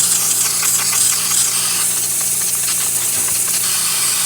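A Breville espresso machine's steam wand, just repaired after a solenoid valve failure, hisses loudly and continuously, a bright, steady spray with a faint mechanical rattle underneath.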